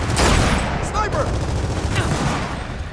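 Sniper rifle fire rings out in Gears of War 4 as a few sharp, loud cracks land over dense battle noise, while a voice talks at the same time.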